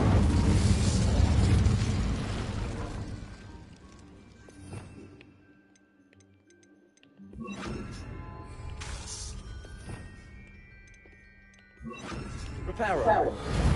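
The Incendio fire spell bursts out in Hogwarts Legacy on PS5, giving loud whooshing, crackling blasts with booming impacts that rise and fall between quieter gaps.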